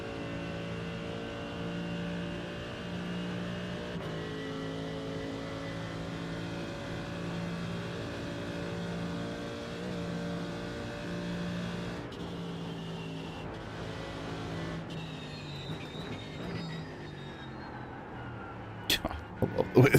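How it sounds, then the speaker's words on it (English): GT3 race car in the iRacing video game, its engine droning at steady high revs then dropping through sharp downshifts, the note falling in steps near the end, with someone talking over it. "I love the way this car sounds"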